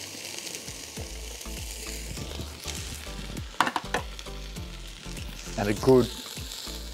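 Red and green capsicum and celery, along with onion, fry and crackle in a pot outdoors while being stirred, with scraping and clanks from the spoon. Someone talks briefly over the sizzle.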